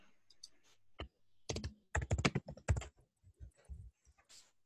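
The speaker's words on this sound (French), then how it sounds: "Il y a quelqu'un qui pianote." Typing on a computer keyboard comes through a group training session call as faint, irregular clusters of quick keystrokes with short pauses between bursts.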